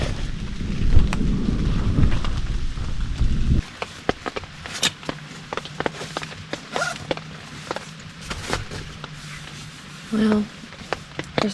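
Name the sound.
thunder and rain during a severe thunderstorm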